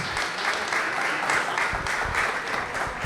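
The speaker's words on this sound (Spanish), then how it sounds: "Para ellos 3 un fuerte aplauso y nuevamente bienvenidos" An audience at a talk on Adolfo Pacheco's life and work applauds warmly, a dense, steady clapping that fills the room for the full length.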